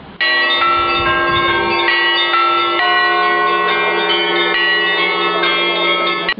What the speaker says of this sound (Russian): Звонарь ударяет в колокол.